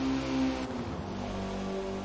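A car engine in the Forza Motorsport racing game holds a steady, droning rev while drifting through corners, with a dull whooshing layer over it and no talking.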